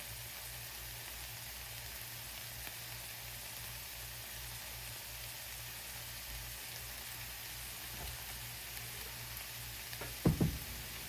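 Garlic cloves frying in a pan with already cooked ingredients, a steady close sizzle that crackles throughout, with a few louder clacks of a spatula near the end and no talking.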